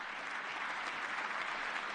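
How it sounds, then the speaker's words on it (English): A dense, steady wash of audience applause after a speech in a hall, many hands clapping continuously and evenly throughout. "And look at them all clapping."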